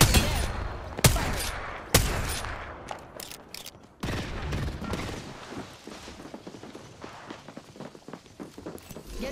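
Gunfire in the video game Apex Legends: several loud sharp shots early on, then a busy spread of quicker pops, clatter and footstep-like tapping that grows fainter, no voices.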